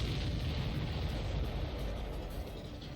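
A rumbling explosion inside the aerial combat game Ace Combat 7, a dense low roar with wind-like hiss that fills the moment and slowly tapers, with no voices over it.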